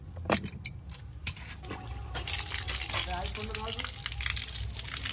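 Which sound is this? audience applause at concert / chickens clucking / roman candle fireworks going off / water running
water running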